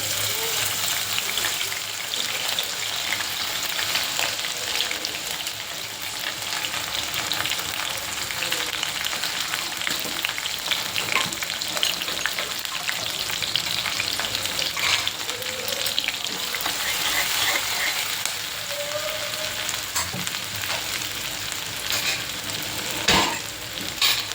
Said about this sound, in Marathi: यामध्ये आपण आलं, लसूण आणि कढीपत्ताची फोडणी देऊया.